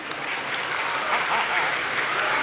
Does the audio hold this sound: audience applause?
yes